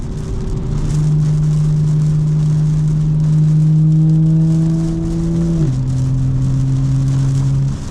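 Steady road noise and whir from a fully modified 2025 BMW M4 Competition driving in the rain, with a sustained low engine drone that steps down in pitch near the end, wet rush underneath throughout.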